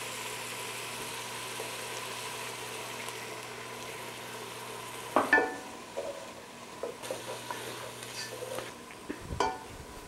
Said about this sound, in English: And now I'm going to add some red wine. A nice hearty red wine.